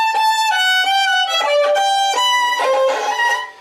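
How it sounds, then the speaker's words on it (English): Solo violin playing a phrase from a Handel Bourree, with a bowed note choked off harshly when the bow runs out. The notes are close, bright and sustained, and no one speaks. "choke that note, which obviously is a very ugly sound we want to avoid"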